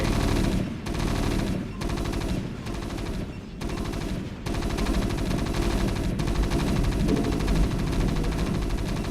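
Gunfire rattles in rapid sustained bursts during a StarCraft: Brood War battle, loud and continuous with brief gaps between volleys and a dense low rumble beneath.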